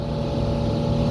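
A small bangka boat's motor engine drones steadily at close range, a low rumbling hum with wind noise over it.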